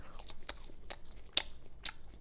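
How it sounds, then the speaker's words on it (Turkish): Wet lip smacks and mouth clicks right against the microphone during a Turkish live stream, a handful of sharp, irregular smacks over a faint background hiss, with no talking. "Kanka şapırdatma bak böyle."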